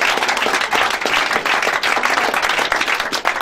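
A church congregation at a Sunday service claps and cheers together in dense, steady applause that fills the space loudly and continuously from start to finish.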